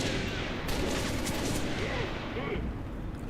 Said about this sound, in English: Is that a machine gun? It had like a box mag. I think that was the M75.